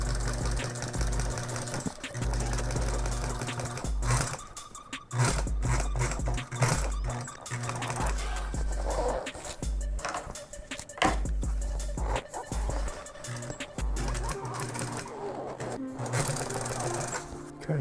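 An upholstery sewing machine top-stitches an old-school bucket car seat, running in loud, steady bursts of rapid thumping that stop and restart several times, with brief handling noises between the runs.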